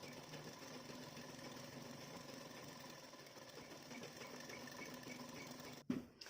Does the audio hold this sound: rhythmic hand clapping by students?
no